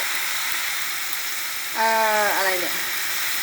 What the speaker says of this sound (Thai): ผัดให้พริกหอมเลยนะ